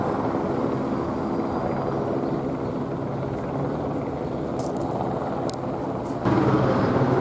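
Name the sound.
helicopter hovering overhead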